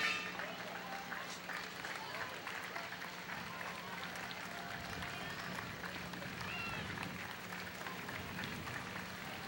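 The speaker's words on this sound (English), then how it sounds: "the applause is just absolutely continuous here." A crowd lines the route of a 4th of July parade and claps without pause, a dense, steady rattle of applause from many people with a commentator talking over it.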